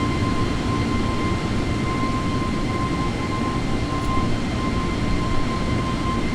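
Loud, steady exterior roar of an A320neo airliner in a flight simulator, a dense broadband rumble with a faint constant whine, continuous with no talk.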